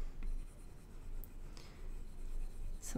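Faint soft scratching comes from an Apple Pencil drawn lightly over a tablet screen while painting in Procreate with a charcoal texture brush, a few quiet rubbing strokes and tiny taps with no talk.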